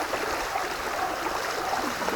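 Water flowing beneath a branch in a stream, a steady broadband rushing and gurgling wash that holds evenly at moderate loudness throughout, with no voices.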